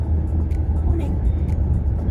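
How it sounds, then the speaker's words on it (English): A car driving along a narrow mountain road, its steady engine and road rumble close and continuous, with faint wind or cabin noise over it. "I'm driving a very narrow road over the mountains"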